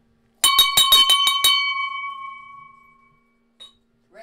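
A small hand bell struck in a quick run of about six rings, then left to ring out and fade over roughly two seconds, loud and close, with a faint tap near the end and no talk.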